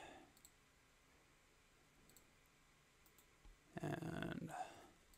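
A computer keyboard being typed on during graphics design work gives a short burst of rapid, close plastic key clicks near the end, after a long stretch of quiet room noise.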